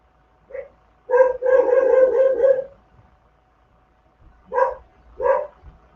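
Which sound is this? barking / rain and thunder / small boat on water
barking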